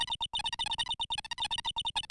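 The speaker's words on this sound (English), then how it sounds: "What's that beeping noise, Mr. Nick?" A rapid electronic beeping from a phone call in the Phoenix Wright video game, quick evenly spaced bursts repeating for about two seconds, clear and alone with no voices.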